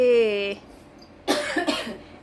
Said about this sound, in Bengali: কাশি হচ্ছে তোর প্রথম কদিন হবে